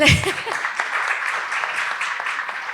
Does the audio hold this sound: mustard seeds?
no